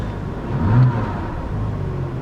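Porsche Cayman engine running behind the listener outdoors on a freezing day, giving a low steady rumble that swells into a brief rev and then settles back to idle, no talk.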